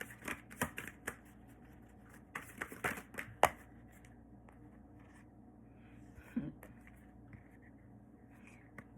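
Tarot cards being shuffled and handled during a reading, heard as soft, quiet riffles and scattered papery clicks with brief louder snaps, mostly gentle and close.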